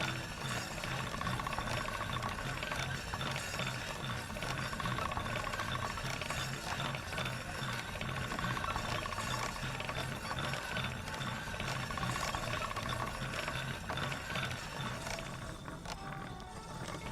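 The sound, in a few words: grindstone spinning while sharpening a blade in Kingdom Come video game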